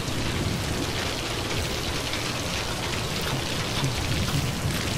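Steady rain falling in the video game Metal Gear Solid V, a dense, even hiss of drops across the whole clip at moderate loudness, with no voices.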